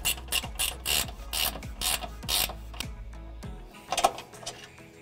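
A ratchet wrench tightens transmission line fittings on a new radiator in a 1965-1966 Ford Mustang, giving a series of quick, close clicking strokes in short bursts that slow and stop.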